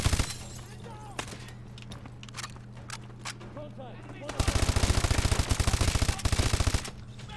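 Suppressed gunfire in the video game Call of Duty: Advanced Warfare, with rapid bursts of muffled automatic shots and sharp cracks over rumbling game noise, some glassy breaking sounds, and a voice speaking partway through.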